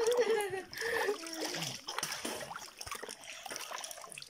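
Water splashing and trickling in a swimming pool inside a cave on Bantayan Island, sloshing and echoing with bursts of spray, heard under excited voices of people talking and calling out nearby.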